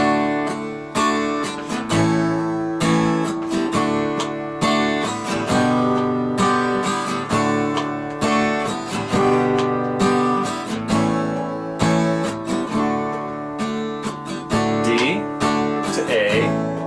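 Acoustic guitar strums a sequence of chords, each strum ringing out and decaying before the next, steady and close, with no voices.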